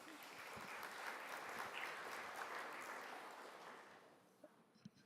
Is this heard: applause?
yes